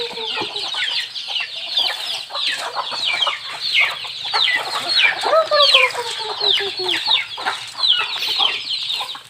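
Several chickens cluck and squawk close by in overlapping bursts, with a rooster-like call rising among them, continuous and lively.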